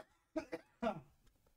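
A person who is a little sick coughs twice in quick succession, with a third, longer cough following, set against quiet near-silence.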